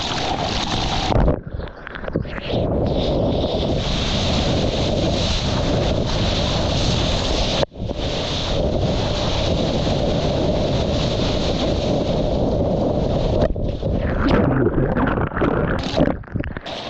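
Ocean surf breaking near a rocky point, a steady loud roar of waves and froth mixed with heavy wind buffeting, continuous with brief dips, no voices.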